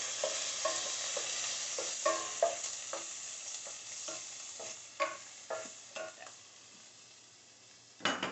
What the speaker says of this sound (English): And then stir in my greens. And I'm just stirring these to coat them.